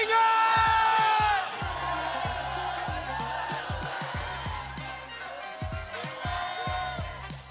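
A large crowd at a live esports playoff cheers and whoops loudly, a sustained roar mixed with shouted voices and steady thumping beats beneath it.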